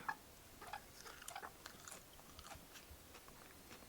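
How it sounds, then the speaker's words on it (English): Biting into and chewing a raw pigweed leaf picked straight from the plant, a series of close, crisp crunches and wet chewing sounds over about four seconds, with no talking. "I can just pick off a leaf and eat it?"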